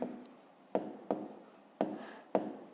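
Pen or marker strokes on paper or a board during a fifth-grade math lesson, with several quick sharp taps and short scratchy strokes in an irregular rhythm, quiet and close.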